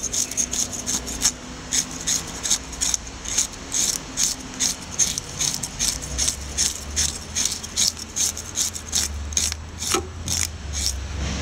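A fish having its scales scraped off during cleaning, a rapid, rhythmic series of harsh rasping strokes up close, loud and regular, with a low rumble joining partway through.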